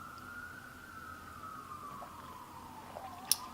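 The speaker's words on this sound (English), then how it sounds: "I'm so sorry if you can hear the ambulances. I'm in New York City, so it's just part of it." A distant ambulance siren wails faintly along a New York City street, its pitch slowly sliding down over a low city rumble, with a sharp short click near the end.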